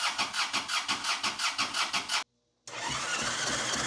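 A Honda Goldwing engine cranks with a quick rhythmic starter chug, goes briefly silent, then catches and runs with a loud, steady roar while held at full throttle.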